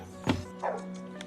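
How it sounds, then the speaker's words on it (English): An angry-sounding dog inside a house gives two or three short barks and yips, muffled and moderately distant, with brief pauses between them. "No one appears to be home, except an angry-sounding dog."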